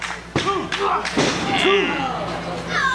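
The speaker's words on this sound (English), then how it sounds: "took him over with the suplex instead" A wrestler lands hard on the ring mat from a suplex at a CWF Mid-Atlantic match, with several heavy thuds and slams over crowd noise and a commentator's voice.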